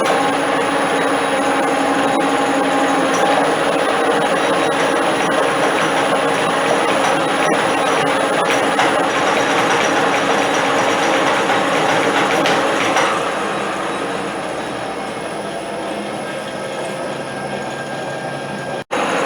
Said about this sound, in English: So here's the clutch being operated.